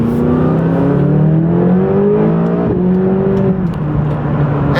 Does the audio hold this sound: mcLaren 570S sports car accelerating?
yes